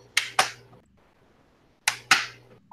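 A single person imitates the Live Aid crowd at Wembley Stadium clapping in unison during a song, giving two sharp paired claps, a pause, then another pair, crisp and close in a quiet room.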